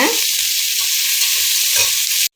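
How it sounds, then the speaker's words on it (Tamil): Onions sauté in hot oil for chicken biryani with a loud, close, continuous hissing sizzle and a few soft stirring scrapes, then stop abruptly at the end. "அதனால் வெங்காயம் நல்லா வதங்க விடுங்க."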